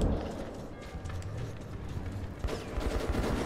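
Rapid gunfire in Metro 2033 Redux, dense bursts of shots rattling continuously at moderate loudness, with a sharper volley near the end.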